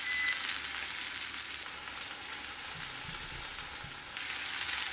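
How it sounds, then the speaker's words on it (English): Chicken pan-frying in oil gives a steady, close, bright sizzle with crackling spatter throughout, and a few soft stirring knocks come near the end. "You're basically pan frying this."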